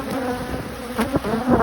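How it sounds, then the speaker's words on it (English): Honeybees buzz loudly and close by in a steady drone around an opened hive, with a few louder swells as individual bees pass near. "Bees are really irritated that I'm here right now."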